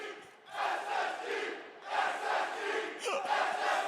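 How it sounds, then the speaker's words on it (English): Esports tournament crowd in a Stockholm arena screaming and roaring in loud sustained waves, swelling and dipping several times, with no clear talk over it. "The crowd has absolutely lost it here in Stockholm. They're screaming at SSG."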